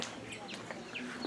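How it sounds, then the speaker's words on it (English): Birds kept in quarantine at a primate sanctuary hospital, brief clucking and chirping calls at moderate distance, with people talking nearby. "you got some birds that are quarantined"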